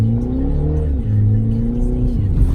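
A Mini John Cooper Works slides around a race track in Abu Dhabi, its engine a close, continuous drone whose pitch dips and climbs as the throttle changes. Faint voices sit beneath it.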